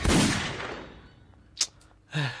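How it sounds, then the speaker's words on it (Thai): Mochi fruit explosion in the video game Fruit Battlegrounds: one loud, booming burst that decays over about a second, followed by a couple of short, sharp effect hits, with no talking. "ระเบิดโมจิแล้วปิดฉากอย่างสวยงาม"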